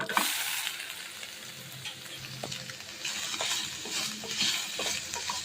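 Boiled soybeans sizzling and frying in hot oil seasoned with chili powder and salt in a pan, steady crackling hiss with scattered stirring clicks, moderately quiet and close.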